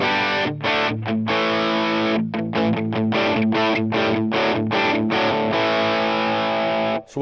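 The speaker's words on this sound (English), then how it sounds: "I'm going to my electric guitar setting now in the board." Distorted electric guitar played through an effects board, loud chopped chords in a rhythmic pattern with short gaps between bursts, ringing out alone before cutting off at the end.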